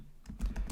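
Keys clacking on a computer keyboard during a Python programming lesson, a brief run of close, light taps with no talking.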